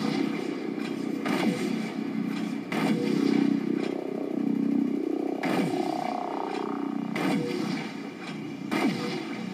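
A gunner in the video game DUST 514 fires on enemies from an aerial vehicle, with heavy rumbling bursts of automatic fire and booming impacts repeating over a constant engine drone, loud and close throughout.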